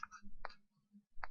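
A computer mouse being right-clicked and used to select data in a spreadsheet, giving a few sharp, quiet clicks spaced through a short, otherwise hushed moment.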